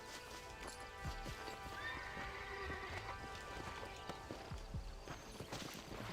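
Horse hooves clip-clop steadily while a horse neighs and whinnies in Red Dead Redemption, over continuous game ambience with repeated low thuds and no speech.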